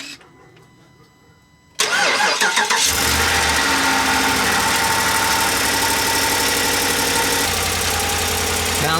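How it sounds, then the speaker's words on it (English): A 2019 RAM pickup's 5.7 Hemi V8 cranks and fires up close to the microphone after a quiet moment, then settles into a loud, steady idle. "Go ahead and start her up."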